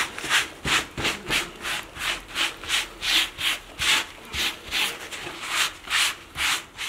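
A wooden cutting board is scraped clean after preparing meat for shashlik, with about a dozen steady, rhythmic rasping strokes, each close and evenly paced.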